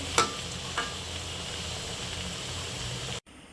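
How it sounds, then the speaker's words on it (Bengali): Pitha cakes fry in hot oil with a steady, close sizzle and a couple of brief clinks from turning them, ending abruptly as the sound cuts to near silence. "এবার ভাজতে ভাজতে যদি দেখি তেল আমার কম হয়ে গেছে তাহলে আবার আমি তেল দিয়ে দিব"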